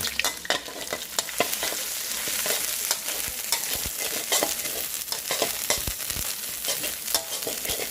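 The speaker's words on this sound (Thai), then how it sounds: "คั่วให้หอมครับ เหลืองก่อน" Homemade pounded curry paste stir-fried in a pan, a dense continuous sizzle with scraping, stirring clatter throughout, close and steady, no talking.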